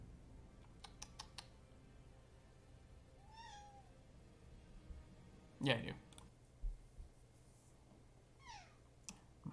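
A pet cat meows once in a short rising call, faint and close, among quiet computer keyboard typing and clicks, with someone speaking briefly.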